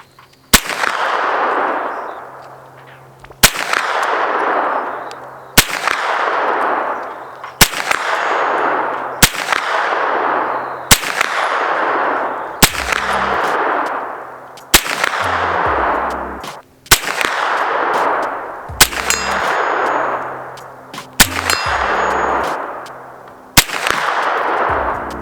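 Eleven evenly spaced gunshots ring out at a metal target about 65 yards away, each sharp crack followed by a bright metallic clang that decays over a few seconds. No talk is heard.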